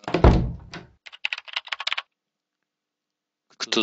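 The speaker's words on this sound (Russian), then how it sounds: "Кто тут у нас печатает?" Typing on a keyboard in the Nancy Drew video game Deadly Device: a heavy thunk first, then a quick run of light key clicks, a silent gap, and a few more keystrokes at the end.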